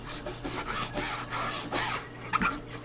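A freshly sharpened knife slices through food on a cutting board during meal prep, giving several quick rasping cuts in a row, close and fairly loud, with no talking.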